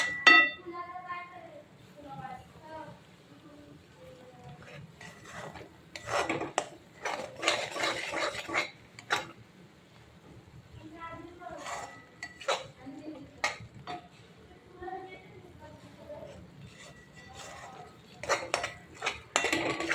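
Masala roasting in a pan for cauliflower gravy: intermittent metal scraping and clinking of a spoon stirring against the pan in bursts, with a faint sizzle and someone speaking between the stirring.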